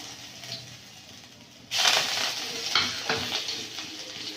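Garlic hits oil in a pan partway through; the sound jumps from a quiet hiss to a loud, bright, crackling sizzle, with stirring scrapes continuing over the sizzle.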